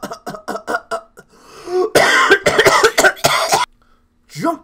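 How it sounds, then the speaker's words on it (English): Throat clearing from the video game Phoenix Wright: Ace Attorney, a loud, close burst of gruff coughing sounds after a run of short text-blip beeps, followed by a brief quiet gap and another voice effect. "Maybe I should clear my throat."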